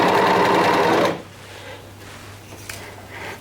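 An overlocker or sewing machine stitches a T-shirt seam in a loud, steady whirring burst for about a second, then stops abruptly, leaving quiet room sound with faint handling noises.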